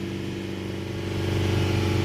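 A Mercedes Sprinter 2.1 diesel engine with a blocked particulate filter holds a steady high idle, then rises slightly in revs, a close continuous hum with strong low harmonics.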